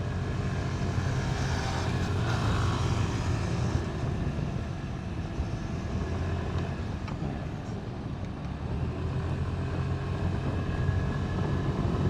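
A Suzuki Burgman 125 scooter ridden fast on an empty road, with steady engine drone and heavy wind rush that stay loud and even throughout, with no talking.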